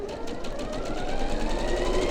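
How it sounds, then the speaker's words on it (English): Sewing machine stitching quilt fabric along a diagonal line for flying geese blocks, a steady continuous motor hum and needle rattle running close and loud throughout, with no talking. "I'm sewing 1/4 of an inch to the left of my diagonal line right here."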